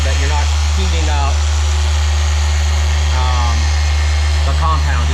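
A machine polisher runs while compounding car paint during paint correction, giving a steady, loud motor hum that continues beneath a person talking throughout.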